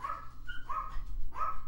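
Dogs indoors at home bark in short, sharp bursts, three or four close barks with brief gaps and a whimpering edge, fairly loud and near with no talking.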